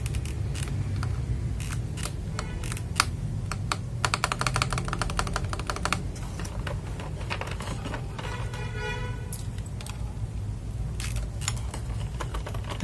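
Typing on an FL Esports MK870 mechanical keyboard fitted with Tiger switches and matcha keycaps, with steady close clacking and quick dense bursts of keystrokes over a low background hum.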